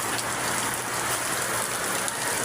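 Dense typhoon downpour hisses steadily and loudly nearby, a constant wash of rain with no talking over it.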